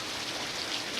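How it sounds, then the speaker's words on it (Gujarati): Heavy rain pouring down during a storm with lightning and a power cut, a steady dense hiss of water falling on surfaces, close and continuous throughout the brief moment. "આમ કેવો વરસાદ આવ્યો"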